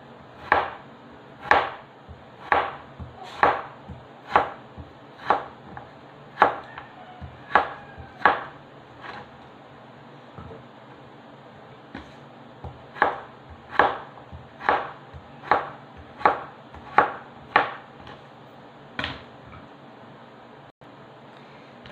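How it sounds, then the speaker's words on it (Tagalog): A knife chops chayote on a cutting board in steady, evenly spaced strikes, about a dozen in one run, a short pause, then another run, close and crisp against quiet background. "Ito naman sa yuti ang isunod kong hiwain sa yuti."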